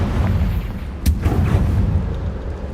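A Confringo spell blast in the Hogwarts Legacy video game gives a sharp, heavy boom over a dense, rumbling in-game background, with low roiling energy lingering afterward.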